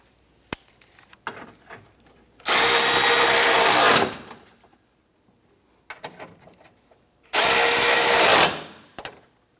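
A power tool drives in radiator bolts on a 1992-1996 Toyota Camry 2.2L four-cylinder in two loud, sustained whirring bursts, each lasting over a second. Clicks and handling clatter come between them, and no one speaks.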